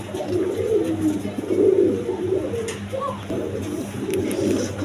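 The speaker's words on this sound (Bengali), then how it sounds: "দেখেন একবার সুস্থ সবল কবুতর" Several healthy pigeons at a bird sale cooing in low, repeated throaty phrases nearby, steady over faint background noise, no speech.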